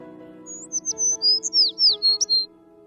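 Rapid, bright bird chirps in a quick run of about ten short whistled notes, clear and close, over a faint low hum.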